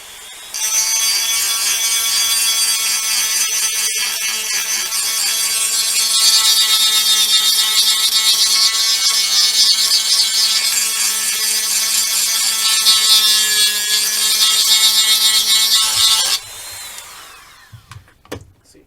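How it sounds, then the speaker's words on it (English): Dremel rotary tool grinding a plastic model kit warp nacelle from a Star Trek Klingon D7 battle cruiser, a loud, continuous high whine lasting about fifteen seconds before stopping abruptly. "I just took the Dremel and went like that."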